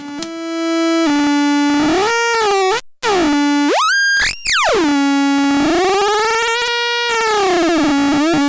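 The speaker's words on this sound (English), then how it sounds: "Hear how syncing those oscillators gives different tones." Harsh, buzzy tones from synced oscillators on a modular synthesizer sweep and bend in pitch, with sudden jumps, brief gaps and gliding rises and falls, loud and continuous with no talking.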